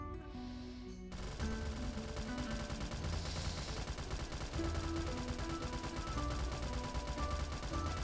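Gunfire in a Roblox game rattles steadily across the whole stretch after a quieter opening second, with dense repeated shots layered over game music and sound effects.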